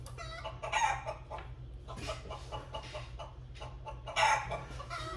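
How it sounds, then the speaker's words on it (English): Chickens clucking with a rooster crowing, picked up in the background through a headset mic, several distinct bursts of calls over a steady low hum. "That's the sound of chickens in the background."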